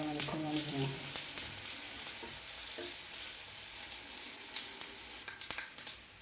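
Tempering (thalippu) sizzles and crackles steadily in a hot pan, a dense frying hiss with sharp pops and spits that grow louder near the end, with no talking.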